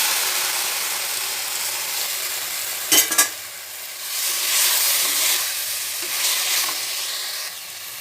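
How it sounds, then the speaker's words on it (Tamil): Tomatoes drop into a pan with coriander stems and fry with a steady hiss and sizzle. A brief clatter of stirring comes near the middle, and the sizzle swells now and then, up close with no talking. "இப்போ தக்காளி பழம் போட்டுருவோம்"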